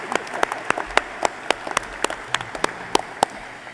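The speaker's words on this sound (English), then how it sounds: "One more round of applause for them." Sparse, scattered hand claps ring out at a fairly steady pace, sharp and close, like a small group clapping politely for a community school chamber choir at a Truth and Reconciliation Commission of Canada signing event, before it fades.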